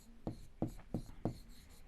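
Pen or chalk strokes writing out a solution to a Class 7 maths lines-and-angles exercise, four short, quiet scratching taps in a steady rhythm, close and faint with no talk.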